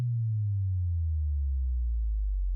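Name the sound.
sub drop, a sine wave sweeping down in pitch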